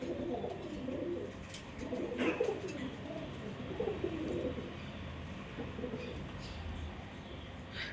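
Pigeons cooing inside a pigeon house, soft repeated throaty coos from a few birds close by over faint background rustle and light chirps.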